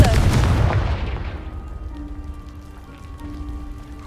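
A Confringo blasting spell explodes in Hogwarts Legacy as a heavy burst booms and crackles, then dies away over a few seconds into a quiet room tone with a faint sustained hum.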